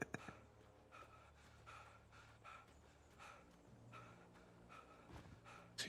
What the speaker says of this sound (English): Gasping for breath.